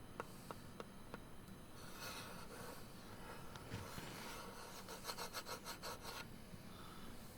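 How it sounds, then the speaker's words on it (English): Sanding a wood-turned bowl on a lathe up to fine grit, a soft rhythmic rubbing and rasping with scattered clicks, growing into quick pulsing strokes toward the end, fairly quiet. "sanding as much as we could all the way up to 600 grit"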